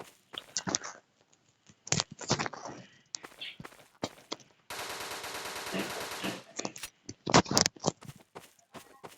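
Video-game gunfire from a pump shotgun: loud separate blasts, a sustained rattling burst, and scattered footsteps between the shots.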